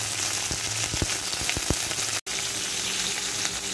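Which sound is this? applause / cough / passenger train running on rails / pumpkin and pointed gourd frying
pumpkin and pointed gourd frying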